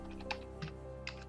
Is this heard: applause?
no